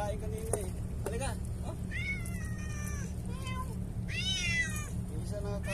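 A hungry cat meows repeatedly in a Filipino fishing setting during a talakitok harvest, several rising meows standing out over steady low rumble and background voices.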